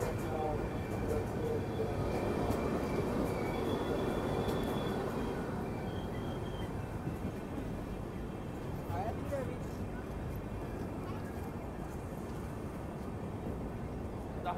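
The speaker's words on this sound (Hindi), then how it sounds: "Paschim dot on time Dahod railway station में पहुंच रही है" The Paschim Express pulls into Dahod railway station with a continuous low rumble and rolling clatter that stays steady throughout, mixed with faint voices and station ambience.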